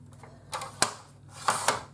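Card stock being trimmed at the top on a paper cutter, giving a few sharp close clacks and slicing snaps spread across a quiet moment, with no talking.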